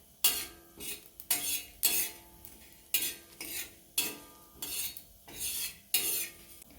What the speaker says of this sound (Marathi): दहा ते बारा मिरे एक चमचा बडी एक चमचा जिरे एक मोठा चमचा धने हे सर्व भाजून घ्यायचे